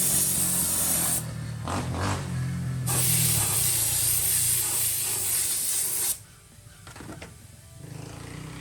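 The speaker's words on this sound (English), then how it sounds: "We'll go ahead and spray that stripe." Aerosol spray paint hisses onto the stripe of a Pro-Line Traxxas UDR RC car body in steady close bursts, with a brief pause near the start and a softer, quieter spray toward the end.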